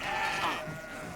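Goat bleating in the video game Kenshi: one drawn-out, wavering bleat heard fairly close over a steady background hum, with no talk over it.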